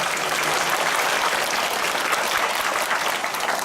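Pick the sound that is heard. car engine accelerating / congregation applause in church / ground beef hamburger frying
congregation applause in church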